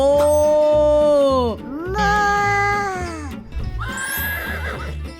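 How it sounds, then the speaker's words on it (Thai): A horse whinnies loudly and up close, a long wavering neigh followed by further rising and falling calls over a background of music. "อลิส ดูสิ นั่นมา้า"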